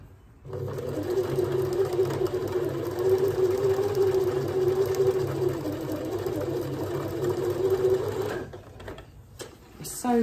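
A sewing machine runs in one long, steady, even whir while stitching fabric for a dress hack, then stops near the end followed by faint handling clicks.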